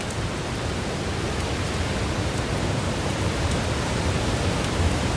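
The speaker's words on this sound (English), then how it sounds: "The typhoon and the tide are both coming in now" Typhoon Pepito lashing the coast at Baler in the Philippines as the tide comes in: a dense, steady roar of wind, rain and surf, loud and unbroken.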